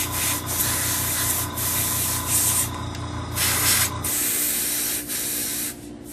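Marker spraying ink onto a craft project while making faux layers, a near continuous close hiss with brief dips and pulses, slightly uneven as the drying marker sputters.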